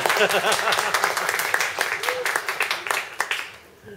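Small audience clapping after a poetry reading, a scattered round of claps mixed in with ongoing conversation and laughter, tapering off toward the end.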